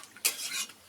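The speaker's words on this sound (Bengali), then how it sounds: "খুন্তি দিয়ে একটু নেড়ে আমি সবকিছু একটু মিশিয়ে দিচ্ছি" A spatula stirs chalta (elephant apple) pickle in a pan, a brief close scrape and clatter of metal against the pan, quiet and alone.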